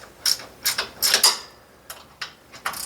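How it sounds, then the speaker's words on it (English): A wrench ratchets in short bursts while loosening tight J-bolts on a Brunswick A2 pinsetter pulley housing, several quick metallic clicking runs close by with brief pauses between them. "these J-bolts are cranked down pretty tight, so we're going to have to just loosen those up"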